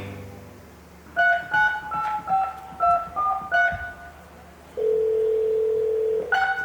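A telephone line gives a run of short two-tone beeps, like dialing or ringback pulses. A steady sustained tone follows, then another beep at the end, all clear and close with no talk over it.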